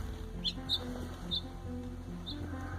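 A sparrow frozen to a pipe gives a few thin, high chirps, spaced apart and fairly faint, over a steady low background hum.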